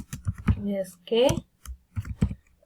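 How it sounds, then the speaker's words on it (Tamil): Typing on a computer keyboard during an HTML lesson, with keystroke clicks mixed under a person speaking Tamil throughout. "அதையே நான் டைப் பண்றேன்"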